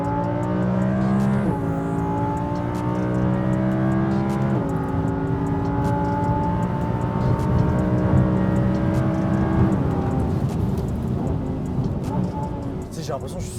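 Audi R8 V10 with 610 hp accelerating hard through second and third gear, engine note rising steadily then dropping at each upshift, loud and continuous from inside the cabin, with voices talking over it.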